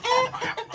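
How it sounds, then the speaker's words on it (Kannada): Chicken clucking in a few short, close bursts, with no one talking over it. "ಕೋಳಿ"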